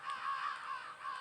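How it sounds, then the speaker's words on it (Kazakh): Crows in a video game caw in a harsh, steady run of overlapping calls, close and fairly loud, with no voices over them. "мына қарғалар"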